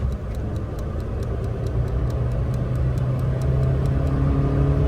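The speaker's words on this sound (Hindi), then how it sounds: "तो वो भी रिस्पांस टाइम देखते हैं कि गाड़ी कितने टाइम में 80 पूरा करती है" Suzuki Cultus Limited Edition car accelerating in third gear toward 80, a steady close engine drone with rising hum and faint regular ticking above it, growing slightly louder toward the end.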